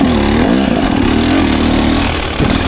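A 2024 KTM 300 XCW dirt bike engine running close by: a loud, buzzy two-stroke drone with a brief rise and fall in pitch, steady throughout the short stretch.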